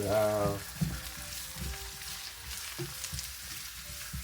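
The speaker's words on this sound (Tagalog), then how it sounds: "Gigisa natin hanggang sa magkulay golden brown siya para yung aroma ng luya, sibuyas, saka bawang ay lumabas" Ginger, onion and garlic sautéing in a pan until golden brown, giving a steady sizzle with a few stirring clatters near the start and later, close and moderately loud.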